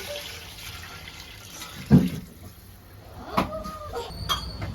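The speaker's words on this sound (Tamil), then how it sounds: "நம்ம ஒரு தண்ணி ஊற்றிக்கலாம்" Water pours and splashes steadily into a cooking pot for chicken biryani, with a metallic clunk partway through and more splashing afterward.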